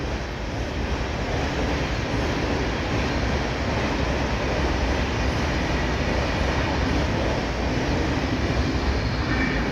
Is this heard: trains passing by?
yes